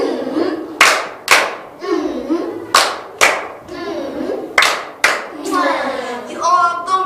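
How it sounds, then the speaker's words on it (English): Children clap in several short, sharp bursts in a classroom during a colour lesson, the bursts scattered and uneven, with a woman's and children's voices speaking between them. "Clap yourselves."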